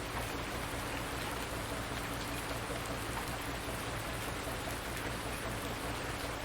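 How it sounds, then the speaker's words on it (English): Steady rain pouring down in a Farming Simulator 19 farm landscape, a dense unbroken hiss of drops on surfaces that stays even and fairly loud throughout, with no voices. "Oh, now it's rain."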